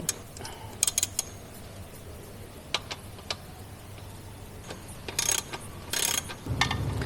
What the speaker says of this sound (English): Loosen the bolt and then loosen the other bolt